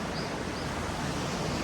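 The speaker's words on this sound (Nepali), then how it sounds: "ओहो सर सानो झर्ना तर पनि पानी गइरहेको छ।" A small waterfall in a park in Japan sends out a continuous, dense rush of flowing water, broadband and unbroken from start to finish.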